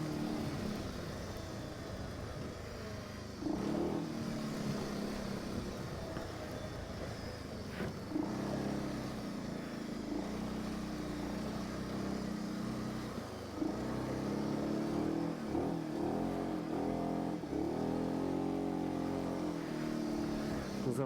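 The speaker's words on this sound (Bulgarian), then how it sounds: "Завоя се взима с дрифт, разбира се, няма как иначе." A car drifts through a turn on a track in Macedonia, its engine revving and rising in pitch with shifting throttle, fairly distant and steady over about twenty seconds, with no voices.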